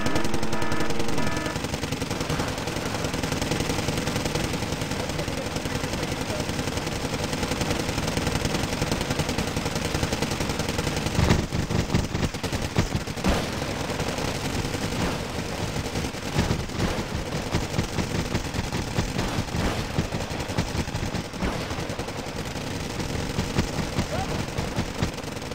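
Dense, continuous small-arms and machine-gun fire from US Marine infantry rifles in the real-time strategy game Wargame: Red Dragon, with rapid overlapping bursts and impacts throughout, steady and loud with no voice on top.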